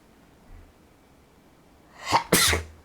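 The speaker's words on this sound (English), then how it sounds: "I gotta sneeze" A single loud sneeze after a short quiet pause, with a sharp intake of breath just before it.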